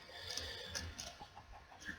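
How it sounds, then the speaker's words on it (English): A white chicken in a modded Minecraft-style video game clucks softly in a short series of quick, faint calls, with low game background underneath and no talking. "Why is there a chicken down here?"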